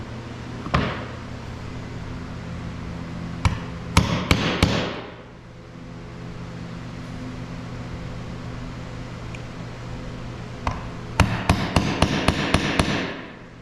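Hammer strikes punch holes into a Ford Falcon door armrest, coming in short bursts: a single hit, a quick cluster of blows, a pause, then a rapid run of close, loud strikes over a low background hum.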